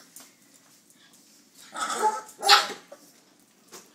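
A small dog gives a couple of sharp, close yips and barks among quiet indoor sounds, followed by a softer whimper.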